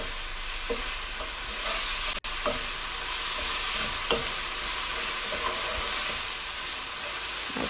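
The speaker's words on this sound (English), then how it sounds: "And then you want to stir that up." Oxtail fries in a pan with a constant bright sizzle as all-purpose seasoning is stirred in, a few soft scraping knocks of the spoon standing out against the steady hiss.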